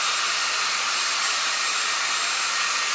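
Close and loud, a hair dryer runs without pause over wet paint on a flower painting, an unbroken high airy rush with no voices.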